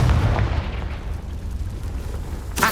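A Confringo fire spell bursts in Hogwarts Legacy, a deep booming blast that rumbles on for a couple of seconds before a sharp crack near the end.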